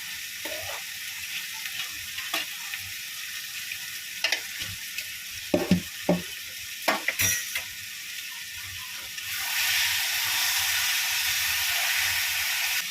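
Fried potatoes added to a spice mix with tomato and a little sugar, frying in a pan: a steady close sizzle broken by several sharp clatters and scrapes of a spoon, and the sizzle swells louder near the end.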